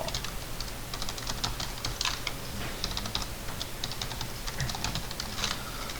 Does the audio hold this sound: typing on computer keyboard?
yes